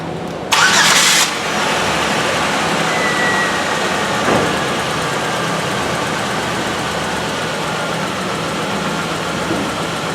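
A car engine runs steadily at a held, raised speed of about 2,000 RPM during an alternator output test, a brief start-up burst at the beginning, then a constant, fairly loud drone with no talking.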